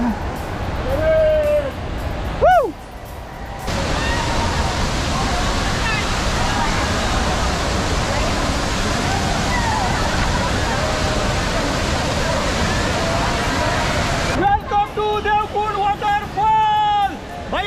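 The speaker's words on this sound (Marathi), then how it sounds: "सह्याद्रीच्या खडकामधून तुफान असा खाली कोसळला देवकुंड वॉटरफॉल" Devkund waterfall in the Sahyadri mountains roars as a broad, steady rush of falling water, loud and continuous through the middle stretch. A crowd's babble and nearby voices are heard at the start and end.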